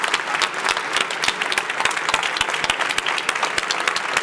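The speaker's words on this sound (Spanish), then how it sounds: "Se merecen un aplauso porque lo han pasado muy mal." An indoor crowd at an event applauds visitors and helpers affected by the DANA floods, producing dense, sustained clapping from many hands at close range for the whole stretch.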